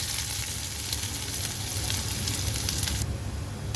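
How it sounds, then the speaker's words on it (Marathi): Onion dropped into hot mustard oil with mustard and cumin seeds fries with a steady, loud sizzle, a continuous close crackling hiss that stays even and fades slightly near the end, with no voices. "तेल गरम झालं माझं. थोडंसं राई जिरा टाकला आणि हे कांदा टाकते."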